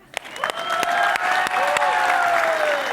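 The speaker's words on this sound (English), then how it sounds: "so can I have an amazing applause?" A live audience at an online-reputation talk for the American Rental Association breaks into applause, starting with a few sharp separate claps and quickly swelling into loud, sustained clapping from the whole room, with a faint ringing tone above it.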